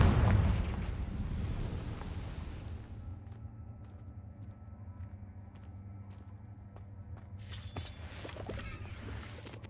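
The Confringo blast spell explodes in the video game Hogwarts Legacy: a loud, deep boom that rumbles and fades over a few seconds, then a quieter ambience with sharp crackling bursts near the end.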